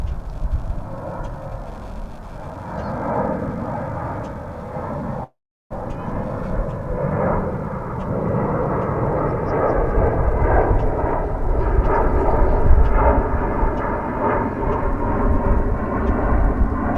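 An airplane arrives at DFW Airport, heard as a loud, sustained jet roar that builds and rumbles on throughout, broken by one brief dropout.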